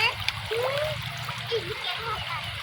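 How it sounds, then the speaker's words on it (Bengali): Water splashes at a hillside waterfall, a busy broadband wash running throughout, with children's and other voices talking and calling over it. "ঝর্ণার পানি পাইয়া আব্দুল্লাহ সেই খুশি"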